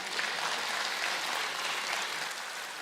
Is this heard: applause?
yes